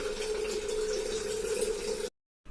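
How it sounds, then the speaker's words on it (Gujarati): Filtered water is poured into an old clay pot and swirled, making a steady continuous rushing stream that stops abruptly near the end. "આ ફિલ્ટર વાળું પાણી આપણે ગોરામાં નાખીને એને આ રીતે એકવાર વિચરી નાખશું"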